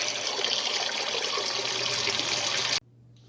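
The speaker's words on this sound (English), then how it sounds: "First step is to clean them real good here in cold water." Steady cold running water streams and splashes close by as jalapenos are rinsed for a few seconds, then cuts off abruptly, leaving quiet room hum.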